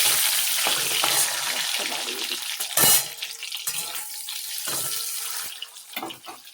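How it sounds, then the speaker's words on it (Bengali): An egg fries in a pan with a steady close-up sizzle, broken by a few brief clatters and stirring scrapes, with no talk. "যে ডিমটা ভেজে নিচ্ছি।"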